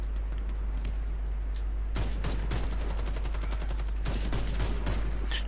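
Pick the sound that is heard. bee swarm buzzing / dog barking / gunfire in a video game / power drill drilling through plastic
gunfire in a video game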